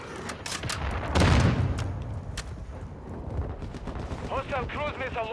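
Video game gunfire crackles in rapid bursts with a heavy boom-like swell, loud and continuous, while a voice talks briefly near the end.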